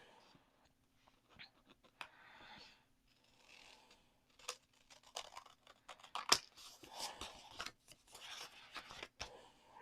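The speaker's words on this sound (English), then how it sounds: "And then just trim off that edge there." Scissors trimming the edge off a piece of cardstock for a handmade card: quiet, close snipping and rustling paper in short irregular bursts, soft and intermittent with near-silent gaps.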